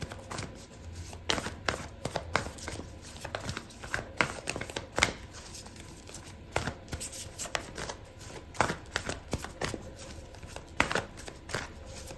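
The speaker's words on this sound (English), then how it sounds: "I'm going to pull out an oracle card for you" Oracle cards are shuffled by hand in a long run of crisp riffling bursts, close and dry, with short pauses between handfuls before a card is drawn.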